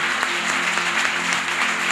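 A church congregation claps together in loud, dense, continuous applause that fills the room at an even level without a break.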